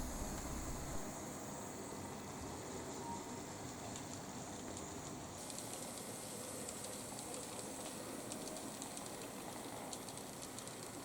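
A model Amtrak train runs on a scenic layout railroad, its steady rolling rumble and hiss continuous and fairly faint throughout.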